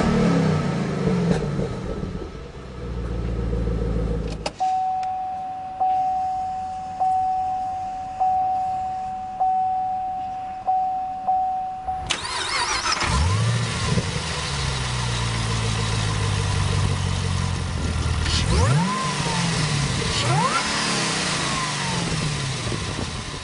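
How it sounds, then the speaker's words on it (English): A 2012 Chevrolet Camaro ZL1 V8 settles from a loud, rough rumble into a steady idle with a high whine, then a series of sharp throttle blips, before a loud sustained roar. No talking. "An absolutely incredible exhaust note."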